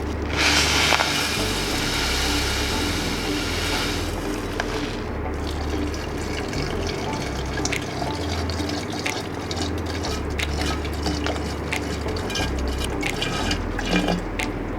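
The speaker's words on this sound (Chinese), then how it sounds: "再加1支的白醋，大概也是半公斤的白醋" White vinegar pours steadily into sugar for Taiwanese pickled cabbage, a continuous liquid fill with trickling and dripping throughout, fairly close and alone without talk.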